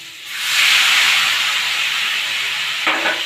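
Boiled banana flower (mocha) drops into a hot pan of cooked-down spices and water for a vegetarian Bengali mocha ghonto, setting off a loud, steady hiss of sizzling steam that holds for a few seconds, close up.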